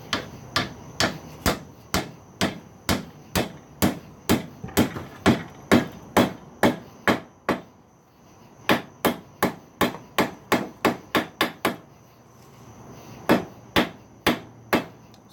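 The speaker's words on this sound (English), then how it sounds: "and to knock that 90 degrees with a hammer." Hammer repeatedly striking a railroad spike tong blank to bend it 90 degrees, sharp loud metallic blows in steady rhythmic runs separated by short pauses, close and without speech.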